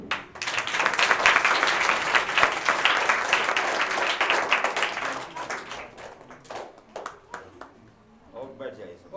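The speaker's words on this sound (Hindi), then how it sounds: "बच्चों तालियों से" Children in a seated hall audience applaud at a lamp-lighting ceremony during a social drama event. Dense, lively clapping rises quickly, then tapers into scattered claps with faint voices.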